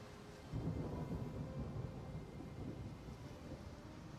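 Thunder from the video game Path of Exile: a deep, distant rumble swells and rolls on for several seconds, low and muffled, with no speech over it.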